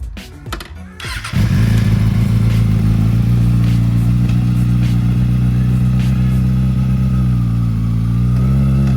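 A 2019 Kawasaki ZX-6R motorcycle starts after a brief clatter, then its engine holds a loud, close, steady drone for the rest of the clip, with no talk over it.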